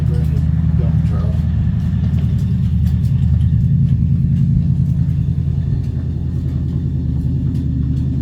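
A neighbor's dump truck engine rumbles in a steady, continuous low drone, loud and unbroken throughout while someone talks over it.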